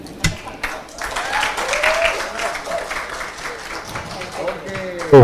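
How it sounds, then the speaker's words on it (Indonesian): An audience applauds Rocky Gerung in a live stage setting, the clapping swelling and fading while a voice talks over it. "terima kasih tepuk tangan sekali lagi Rocky Gerung"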